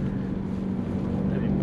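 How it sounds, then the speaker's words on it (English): The 4.4-litre V8 of a 2021 BMW X5 M50i gives a steady, deep drone heard from inside the cabin while driving, with wind noise over it and no clear change in pitch. "Right away, the engine is the dominating feature in this drive."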